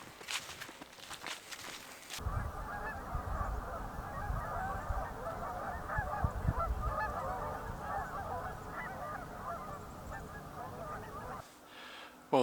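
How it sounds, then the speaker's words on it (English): Geese honk in a dense, chattering chorus from out on the water of a partly frozen pond in winter, a continuous overlapping din held at moderate distance, framed by brief rustling noise at the start and end. "I do hear some geese out on the water"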